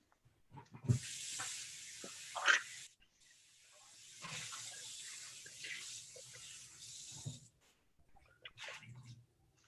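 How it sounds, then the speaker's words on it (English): Salted radishes are rinsed under a running kitchen tap, giving two long, steady rushes of water splashing close by, broken by brief pauses and quieter handling sounds, with a little talk now and then. "So just what I'm doing now, these radishes, I'm squeezing all the water out of them and rinsing the salt off."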